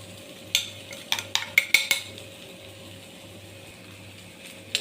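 Bean thoran with curry leaves is stirred in a pan, giving a quick cluster of sharp metallic clinks and scrapes from a spoon against the pan, then quieter stretches.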